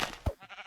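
Sheep bleating as it is killed in a video game, one short wavering bleat in a sub-second burst with soft background tones.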